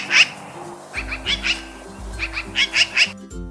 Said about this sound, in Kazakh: Сауысқан.